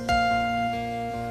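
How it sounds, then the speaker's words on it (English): A soft electronic elevator chime in a Woolworth store sounds once, then holds as a sustained ringing tone that slowly fades against a quiet background. "It's the elevator coming up and down in the Woolworth store."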